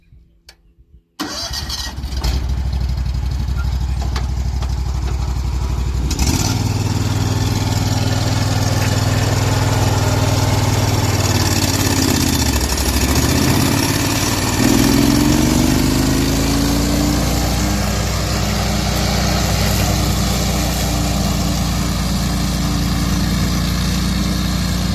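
A zero-turn lawn mower built in South Africa starts up and runs steadily while cutting grass, its loud engine drone holding close and continuous, with a brief load change partway through and no talking.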